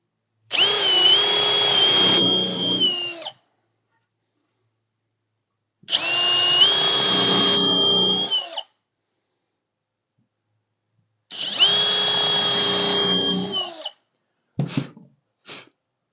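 Power drill driving 2-inch screws into a wooden kids' airplane rocker, three long whining runs of about three seconds each separated by pauses, then two brief bursts at the end, loud and close with no speech.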